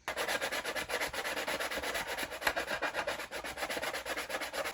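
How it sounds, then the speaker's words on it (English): Fine grit sandpaper rubs back and forth over the chest piece of a Stormtrooper costume, a close, rhythmic scratchy rasp repeating in quick even strokes. "we're going to take our fine grit sandpaper and we're going to smooth everything around the entire chest piece down to a finished product"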